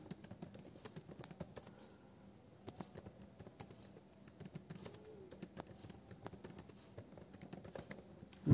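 Typing a shop address on a computer keyboard: quick, irregular clicking keystrokes, quiet and close, continuing in short bursts with faint room sounds behind.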